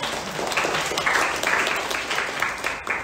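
Workshop participants at a calligraphy session applaud together, a thick, continuous burst of clapping from a roomful of people, steady and fairly loud, with faint voices mixed in.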